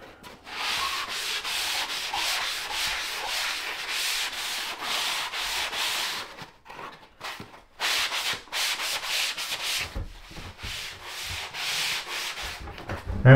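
Steady back-and-forth hand sanding on a drywall ceiling, continuous rhythmic scraping strokes up close with a few brief pauses.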